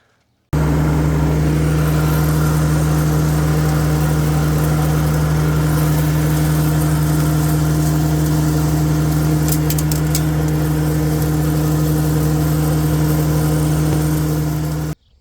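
A tractor's diesel engine, recently repaired for overheating, runs steadily at close range, a low droning hum with a constant tone and no talking.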